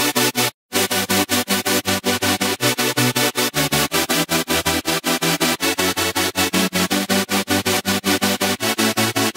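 Bright white-noise patch from the Serum synth, pulsed by an LFO into a steady rhythmic chopping stream of short bursts, loud and continuous with one brief gap near the start, played alone.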